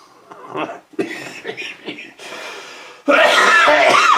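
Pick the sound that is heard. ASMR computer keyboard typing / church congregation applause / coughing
coughing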